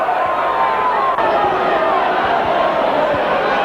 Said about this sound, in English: And there's a great buzz going around this massive crowd as Leeds come up to the centre.